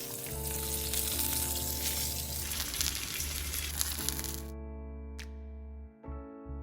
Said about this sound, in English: roll it up and place it in the frying pan